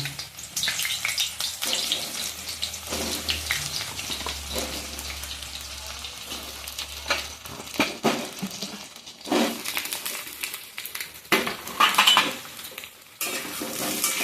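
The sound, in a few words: ridge gourd frying in hot oil in a wok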